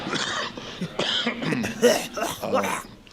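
A series of harsh coughs and throat-clearing bursts, close and fairly loud, coming in several rough fits.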